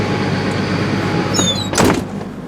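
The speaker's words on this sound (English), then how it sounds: "I close the door" A door on a 1999 Safari Zanzibar RV slides and thumps shut once, close and fairly loud, preceded by a short squeak, with a steady low hum running underneath.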